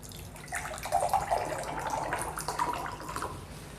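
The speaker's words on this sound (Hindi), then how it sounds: "एक में हम दे रहे हैं आरओ का पानी" RO-purified water pours into a glass in a steady liquid stream lasting several seconds, close and moderately loud, with no talking over it.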